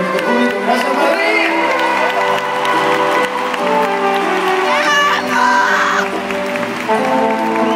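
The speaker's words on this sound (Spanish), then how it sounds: "Aplauso para todos ustedes" Loud concert crowd in Madrid cheering and clapping throughout, with shouts and whoops over sustained music and a brief swell of screams near the middle.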